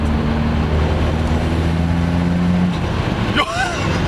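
A nitrous-fed VW Polo TDi accelerates hard, its loud steady engine drone building up close before a sharp shift or tyre noise near the end, with voices briefly talking over it.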